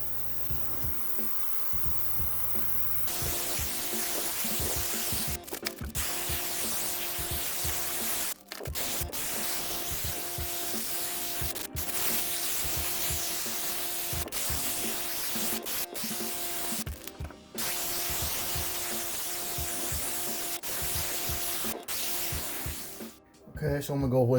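An airbrush sprays green paint onto a jerkbait fishing lure in a steady, close, loud hiss that runs almost continuously, broken by a few short pauses where the trigger is released.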